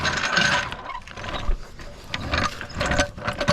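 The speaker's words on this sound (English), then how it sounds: "so I'll show you how to jack it up" A car jack ratchets as it lifts a Ford Escape, giving a steady run of close mechanical clicks and clanks that rise and fall in bursts.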